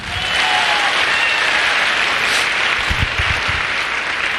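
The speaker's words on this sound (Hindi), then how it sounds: "दोस्तों, इस बिजनेस के लिए जोरदार ताली बजवाना चाहता हूं।" Loud, dense applause from a crowd at a network marketing business seminar, a full steady roar of clapping with a few heavy thumps partway through.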